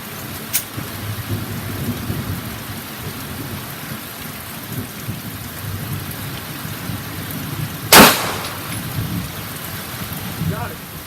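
A single sharp gunshot fired at a blade on an outdoor gun range, one loud crack near the middle over steady wind-like background noise.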